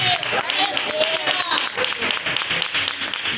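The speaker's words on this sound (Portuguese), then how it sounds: "Mais palmas para Jesus" A church congregation at an IPDA service claps together in a lively, fairly rhythmic wave of applause with a few voices calling out over it.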